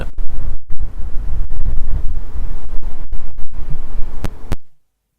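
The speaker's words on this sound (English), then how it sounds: "windy out there" Strong wind buffets the microphone at the port of Southampton, a steady loud low rumble with gusty surges that cuts off abruptly near the end.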